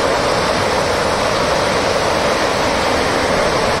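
Water gushes from a burst municipal main water supply pipeline in a crowded residential area, a loud, steady roar that cuts off abruptly at the end.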